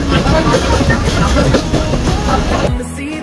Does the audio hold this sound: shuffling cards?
no